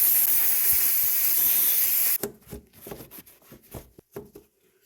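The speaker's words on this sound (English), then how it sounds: "And now we'll take some brake cleaner and spray it off." Brake cleaner sprays from an aerosol can onto a brake hose during an OEM big-brake upgrade on a BMW E46. A loud, steady hiss lasts about two seconds, then cuts off into a string of light clicks and handling noises.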